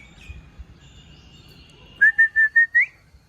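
Someone whistles to call pet pigeons on a rooftop loft, giving five short, bright rising whistle notes close by after a quiet stretch of low background rumble.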